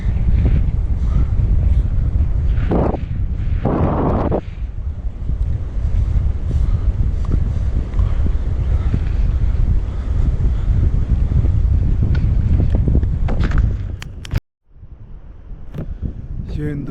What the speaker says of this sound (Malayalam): കാറ്റ് മൊത്തം അടിച്ചോണ്ടിരിക്കുക. എന്ത് കാറ്റാ.